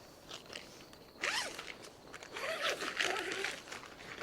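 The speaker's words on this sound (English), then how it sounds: "And that is zipper number two." The second door zipper on an Ozark Trail 3-person A-frame tent is drawn open in a few quick, close rasping pulls, with soft fabric rustle between strokes.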